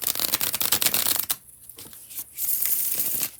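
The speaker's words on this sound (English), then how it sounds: "when I do the bridge shuffle, this is the second and last time I'm going to do it for the Aquariuses." Tarot cards are bridge shuffled close up, a rapid riffling flutter of crisp card snaps followed by a softer cascading bridge as the deck settles, with no talking.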